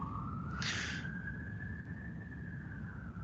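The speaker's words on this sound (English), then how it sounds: "ambulance outside." A distant ambulance siren in central London wails with a single slowly rising and falling tone over a steady hiss of background noise, faint and far off.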